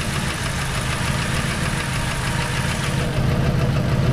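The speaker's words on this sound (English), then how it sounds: "The knocking sound is clearly at the bottom end." A car engine idles roughly with a knock from the bottom end and an EGR valve stuck open, a steady close mechanical chatter with rapid rhythmic tapping that grows slightly louder near the end.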